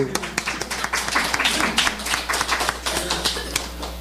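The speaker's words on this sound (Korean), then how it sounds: "밥어머니께 박수." Congregation at a Korean church service clapping for a church member, a steady patter of applause through the whole stretch, with voices talking and calling out over it.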